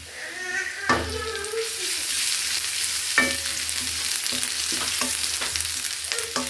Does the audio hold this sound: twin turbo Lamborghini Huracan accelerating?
no